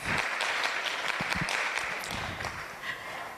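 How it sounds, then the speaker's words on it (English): Applause from an audience at a women's economic forum in Kenya, a steady spread of clapping hands from a moderate crowd with scattered louder claps. "Give a round of applause to Olive."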